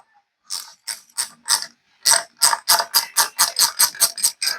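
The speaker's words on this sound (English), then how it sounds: "I like to use a ratchet wrench; it's a lot quicker." Ratchet wrench loosening the rim lock on a 14-inch rear wheel of a KX85 dirt bike: a short burst of clicks, a pause, then a fast, steady run of loud, close ratcheting clicks with no talking.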